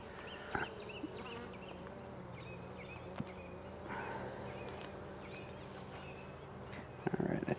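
Honey bees hum in a steady, dense drone as a hive packed with pollen is inspected before a brood box is added. A few soft clicks and knocks from handling the frames sit above the buzzing.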